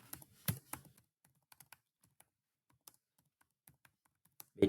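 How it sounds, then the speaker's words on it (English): Sparse clicks of typing on a computer keyboard, a quick burst of keystrokes at the start followed by scattered single taps, quiet and close, with a louder clack at the end. "so just type here"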